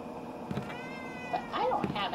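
A cat meows a few times in the Ju-On horror video game, short rising and falling cries close by over a low background drone, with voices talking around it.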